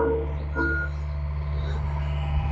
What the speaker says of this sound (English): Excavator is coming off the truck.